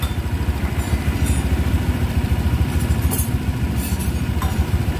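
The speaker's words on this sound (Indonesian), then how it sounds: "Teman-teman bisa hidupkan terus motornya sekitar 1-2 menit." A Honda Vario scooter engine runs steadily at idle after a radiator coolant refill, a close, even, rapid putter with a faint rattling texture, continuing alone without pause.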